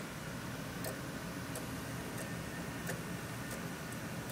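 Old slot-loading CD drive reading a Clonezilla boot disc, a faint, steady mechanical whir with regular soft ticking clicks about every two-thirds of a second, heard alone without talk.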